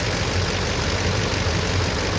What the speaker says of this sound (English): You hear the clatter of the diesel.